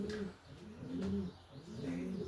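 Show pigeons cooing softly nearby, several low rolling coos repeated in a steady rhythm with a faint chirp above them.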